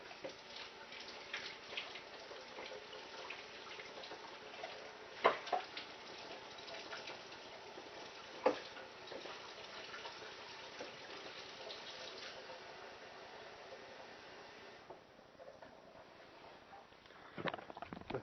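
Warm water runs steadily from a tap into a cup while making grilled pizza dough, a continuous broadband hiss with a couple of brief clinks partway through and a change in flow near the end.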